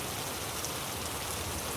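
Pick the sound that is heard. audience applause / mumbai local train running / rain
rain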